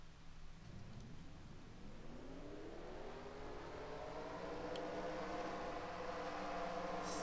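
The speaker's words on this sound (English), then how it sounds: "Drivers, start your engines!" K&N Pro West Series race car engines at Kansas Speedway fire up and rise into a layered, building roar of many engines, heard from a distance and swelling steadily.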